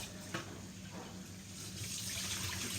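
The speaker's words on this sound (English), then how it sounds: "And then open the pipe on it and we're going to wash that out." Tap water runs steadily into a kitchen sink while raw chicken strips are rinsed, a continuous broadband splashing that grows slightly louder toward the end, with no voices.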